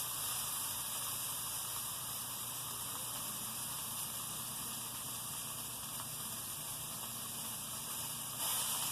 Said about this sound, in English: Sear the edge.